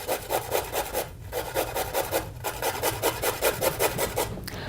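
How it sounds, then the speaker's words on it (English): Carrot rubbed over the smallest holes of a hand grater held against a firm surface, a steady close-up rasping in quick rhythmic strokes, loud and alone. "When you're grating, it works best to have the grater pressing on a firm surface."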